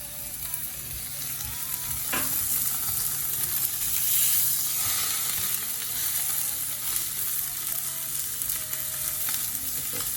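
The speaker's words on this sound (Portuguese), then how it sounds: "E eu vou cozinhar o peixe só de um lado." A salmon fillet sears on one side in a very hot pan, a steady, close, full sizzle and hiss that runs unbroken throughout, with no voices over it.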